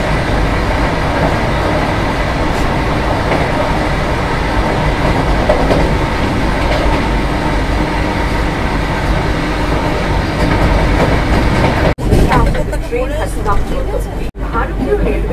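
Passenger train on the Kolkata to Tarapith route running over rails, a loud continuous rumble with rhythmic clatter of wheels, a few sharp jolts near the end and background voices.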